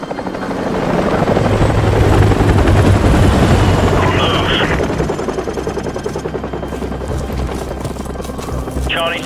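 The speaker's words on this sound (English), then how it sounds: "Enemy helicopters." Enemy helicopters in Call of Duty Modern Warfare Remastered, a loud, steady rotor thump and engine drone that builds and then holds, with brief radio voices and gunfire-like clicks.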